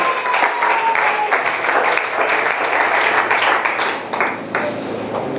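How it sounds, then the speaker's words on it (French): A church congregation bursts into sustained, loud applause in acclaim of Jesus Christ, dense clapping filling the space evenly before tapering slightly near the end, with voices mixed in beneath. "Acclamons Jésus-Christ."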